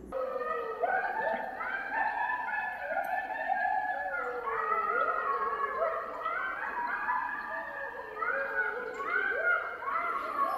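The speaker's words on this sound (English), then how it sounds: "friends of Bunjie, that is the sound of coyotes" A pack of coyotes howls and yips at night in wooded hunting country, overlapping wavering cries rising and falling continuously and fairly close.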